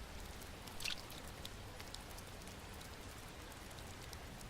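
Steady patter of rain falling on broad plant leaves in the desert, a dense continuous hiss with scattered sharper drops, one brief louder splash early on.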